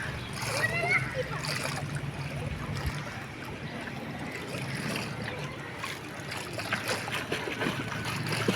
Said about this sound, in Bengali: পায়ে দিয়ে যাও, পায়ে পায়ে সাঁতরে যাও